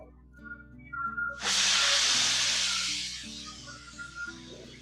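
A pressure cooker cooking rice and dal lets out a sudden loud whistle burst of hissing steam that slowly fades, over a quiet background of soft tones.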